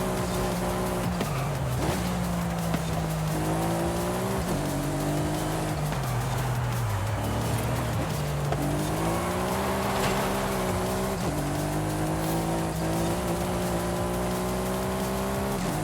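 Ferrari engine droning behind the player's car in the racing game Forza Horizon 5, a loud continuous roar whose pitch rises and falls with gear changes, mixed with tire squeal and other car noise.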